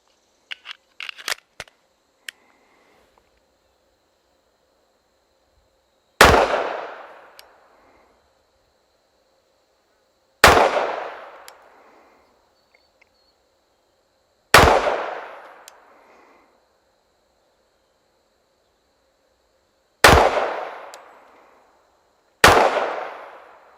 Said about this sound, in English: This is going to be 5 shots to the body from this distance.